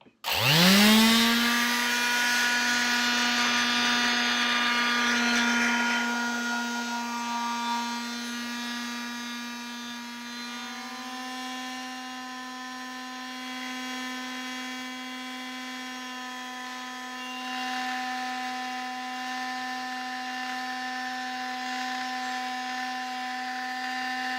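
An electric sander smoothing a dinosaur model starts abruptly and runs as a close, steady buzzing motor whine for the whole stretch, easing slightly in pitch midway.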